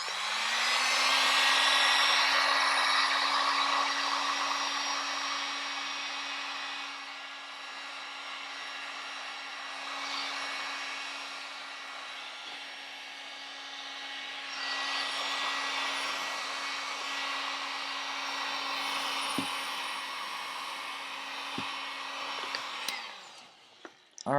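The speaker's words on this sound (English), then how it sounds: "So when I hit it with the heat gun, you'll notice an instant transformation." A heat gun blows steadily on foam for a long stretch, a continuous airy roar with a constant motor hum, easing slightly in the middle before clicking off at the end.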